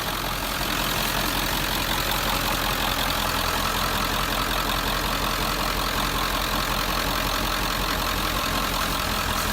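A 1997 Ford F350's 7.3L diesel engine idles steadily after an oil change, a constant rumbling clatter that stays even and unbroken for the whole stretch, close and with no voices.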